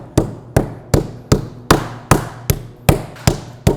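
Meat mallet pounding flank steak, ten evenly spaced sharp thuds in a steady rhythm, close and loud with no talking.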